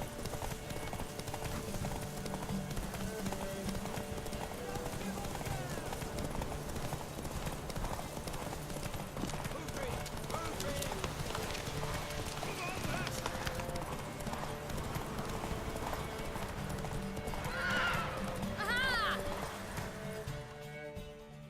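Horse hooves clip-clop at a steady galloping pace through a race in The Witcher 3, with an occasional whinny, set against continuous game music and a voice speaking near the end.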